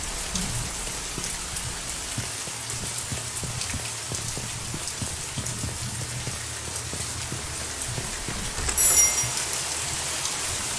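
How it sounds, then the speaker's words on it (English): Steady rain pours beyond an open window in the horror game Mortuary Assistant, a continuous hiss of drops on surfaces with a low rumble beneath and a brief louder swell near the end. "I like how I opened the window and the rain sound got louder."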